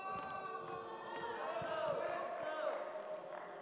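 A home crowd at a university basketball game boos loudly in a sustained wave during free throws, a dense roar of voices with faint sneaker squeaks and court noise underneath.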